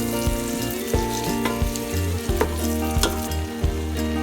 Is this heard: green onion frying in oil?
yes